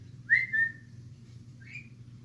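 A pet bird gives two clear, rising whistles, one long and one shorter, over a low steady hum, with no talking.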